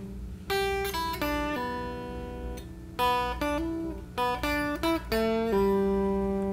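A clean electric guitar plays the outro riff of a song, quick plucked notes with smooth pull-off slurs, ringing over a sustained low drone.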